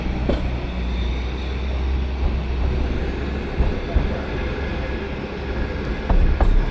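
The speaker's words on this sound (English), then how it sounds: "With the train meandering through the Buda Hills" Budapest's Children's Railway train rolling through the Buda Hills, a steady close rumble and rattle of the railcars with occasional clicks over the track, continuous throughout.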